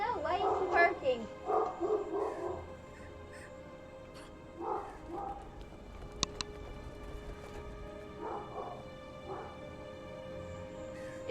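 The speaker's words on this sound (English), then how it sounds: "I know, why is he barking?" A dog in the video game Guild Wars 2 barks in short bursts, a few sharp yips spaced apart, with electronic tones and soft background sounds in between.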